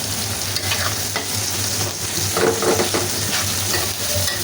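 Dried lotte fish fries in a pan for a jackfruit-seed shutki bhuna, giving a continuous close sizzle while a spatula stirs and scrapes the pieces around.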